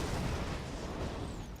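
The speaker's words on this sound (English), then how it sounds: "I gift you an explosion." A sustained, dense rumbling roar from an explosion in the Borderlands 2 add-on Assault on Dragon Keep fills the moment steadily at moderate loudness, with no clear separate blasts.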